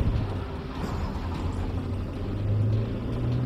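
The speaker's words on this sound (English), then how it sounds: "they can hear the car moving anyway" Car driving in the video game A Quiet Place: The Road Ahead, a low steady engine rumble with a slight rise in pitch near the end, fairly quiet and without talk.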